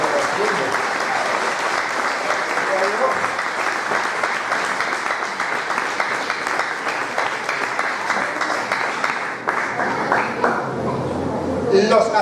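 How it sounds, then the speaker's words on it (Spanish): Loud, sustained applause from a Spanish-speaking church congregation during a Sunday school sermon, a dense, continuous wash of clapping lasting over ten seconds, with voices mixed faintly into the crowd noise. "Denle un aplauso al que vive y reina por los siglos de los siglos."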